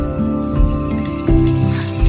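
Water rushes and splashes steadily throughout from a leaking pipe on a farm, a continuous gushing spray close by, with a low mechanical hum running underneath.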